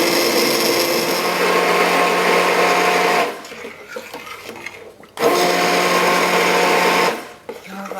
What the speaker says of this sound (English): puree the soup with a stick blender